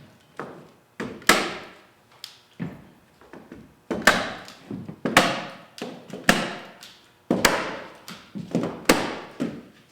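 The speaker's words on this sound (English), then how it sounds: "then I'm going to staple it with 3/8 inch staples all the way around" A staple gun drives 3/8 inch staples into muslin stretched around a frame, a series of sharp irregular thunking clacks at close range with short gaps between shots.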